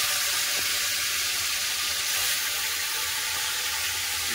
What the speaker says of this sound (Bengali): তেল গরম হয়ে গেছে, মাছ ভাজার জন্য দিয়ে দেবো।